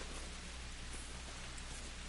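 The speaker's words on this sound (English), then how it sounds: "they need to calm the rain down just a little bit" Heavy steady rain in Call of the Wild on the Mississippi map, a dense continuous hiss of downpour with no breaks, filling the whole scene.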